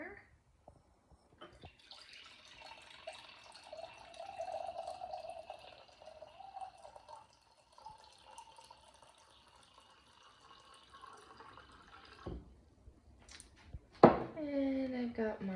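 Artesian well water poured into a container, a thin continuous trickle that runs for several seconds and then stops, followed by a brief clink and a louder splash near the end.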